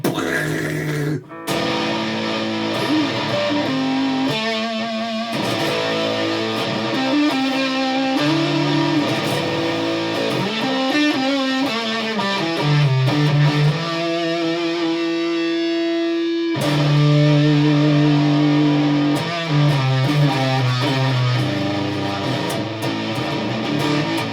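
Loud, distorted electric guitar chugs through riffs and sustained chords, with a short pause midway before the crunchy playing resumes.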